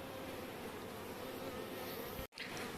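A dense, steady drone of many honey bees buzzing close by around a hive, continuous and even, broken only by a momentary dropout near the end.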